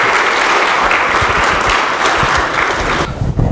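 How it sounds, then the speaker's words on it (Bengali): Audience applause at a Toronto theatre premiere of a stage play, a dense, steady wash of many hands clapping close and loud for the full stretch, easing off slightly at the very end. "আমরা রেহানের জন্য জোরে একটা করতালি দিই"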